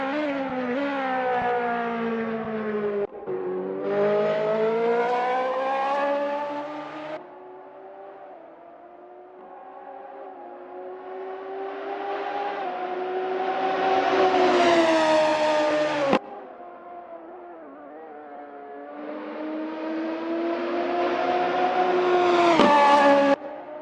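Race cars lapping a wet track in the Assetto Corsa racing game, engines rising and falling in pitch as they rev through gears and pass, loud and continuous with several surges, no talking.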